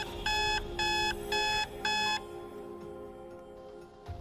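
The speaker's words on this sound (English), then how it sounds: "Then I awake to find out the real alarm clock is buzzing away." An alarm clock beeps in four evenly spaced, bright electronic pulses, then stops, leaving a faint hum in a quiet room.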